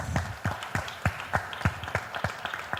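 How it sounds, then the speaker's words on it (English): Sparse applause from a small conference audience, a handful of separate claps at an irregular rhythm, moderately near and fairly quiet. "Big round of applause for these amazing projects."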